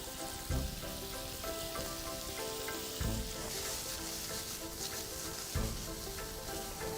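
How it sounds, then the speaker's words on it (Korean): Shrimp and seaweed stems stir-fry with garlic in a hot pan, hissing in a loud, continuous sizzle. Heavy thumps of the spatula land every few seconds. "새우가 반쯤 익었을 때 미역줄기를 넣고 함께 볶아주세요"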